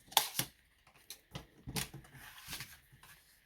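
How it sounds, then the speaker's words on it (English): A paper trimmer slices through an A4 sheet of thick Whisper White cardstock, giving a series of short, crisp sliding and clicking strokes at a moderate close distance, with brief pauses between them. "I'm going to take an A4 piece of thick Whisper White cardstock, and I'm going to cut that down so that it's 10 inches"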